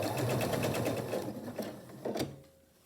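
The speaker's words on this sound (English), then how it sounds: "I'll continue sewing these strips together off camera." A sewing machine stitches quilt strips together in a rapid, even mechanical chatter that pauses briefly, gives a short final burst and then stops, close and alone with no talk.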